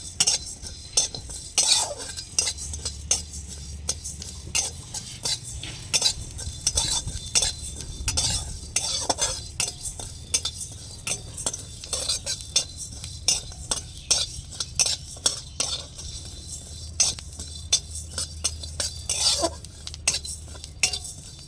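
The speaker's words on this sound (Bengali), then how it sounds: "গোটা জিরে দিয়ে দিলাম। এবার আমি ভালো করে ভেজে নেব" Whole coriander and cumin seeds dry-roast in a wok while a spoon scrapes and stirs, giving near, irregular clinks and rattles with faint popping crackle throughout and no talking.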